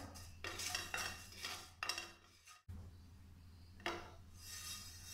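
Dry spices, including ajwain, are stirred and roasted in a pan over a low-medium flame, making quiet scraping and rustling strokes in uneven bursts, with a brief pause midway.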